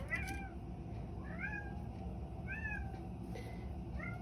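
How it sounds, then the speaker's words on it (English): A house cat meows in the background of a quiet room, four faint, drawn-out rising-and-falling cries spaced about a second apart over a low steady hum. "That's my cat Larry in the background."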